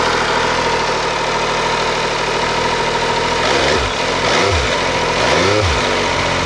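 An MV Agusta F3 800 motorcycle engine idles steadily and loudly up close, with a few brief, light blips of the throttle near the end while the clutch is partly pulled in on a cold engine.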